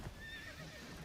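A frightened horse in the video game The Witcher 3 whinnies and neighs, its call rising and falling over a brief burst of stomping hooves, close and fairly loud.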